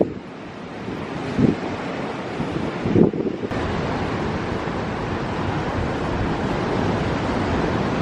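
Waves washing onto a beach, a broad steady roar mixed with gusty wind buffeting the microphone, with two brief louder surges early on and no voices.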